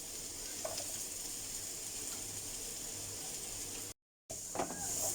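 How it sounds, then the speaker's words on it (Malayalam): Sliced long bitter gourd sautés in coconut oil in a pan, giving a faint, steady sizzle and hiss that runs throughout and is briefly interrupted once. "ഇതിൽ നമ്മൾ കൈപ്പയ്ക്ക ഒന്ന് വാട്ടുക"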